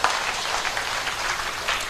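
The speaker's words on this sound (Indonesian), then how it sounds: "Tepuk tangan untuk kita semuanya." Brief, steady applause from an audience at a religious talk on dhikr and health, a dense crowd of clapping hands at an even, moderate level with small swells, no voices heard.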